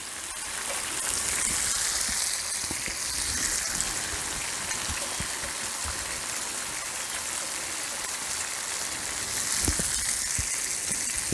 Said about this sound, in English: We're going to saute these onions here.